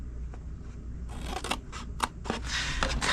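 Scissors snipping card stock along score lines for a stamped paper treat box: a few quiet clicks, then a run of crisp, close cutting strokes, with no talk.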